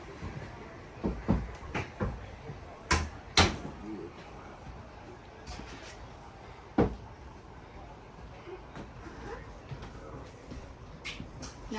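Pull-out hardwood cabinet doors in a 2023 Riverstone Legacy 45 BATH toy hauler RV slide and shut with several soft knocks and thuds, scattered among quiet rustling while people talk in the background.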